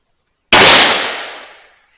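A single sharp crack from a Relum air rifle firing a pellet, loud and close, with a short decaying tail and no one talking.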